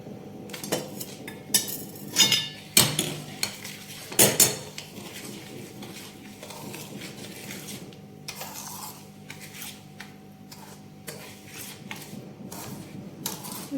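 A spoon scrapes and clinks against a bowl while ghee is mixed into nankhatai dough, with sharp, close knocks early on that settle into a steady, softer rubbing and stirring.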